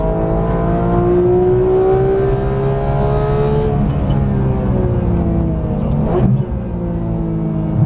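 Porsche GT3 under hard throttle on a Las Vegas racetrack, its engine note climbing steadily in pitch for several seconds, loud and close from inside the cabin, with a brief shift-like dip near the end.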